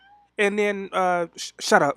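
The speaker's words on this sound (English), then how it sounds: "that was my cat." A house cat meows several times in quick succession, close and clear, in a series of short, tonal calls, with a person speaking nearby.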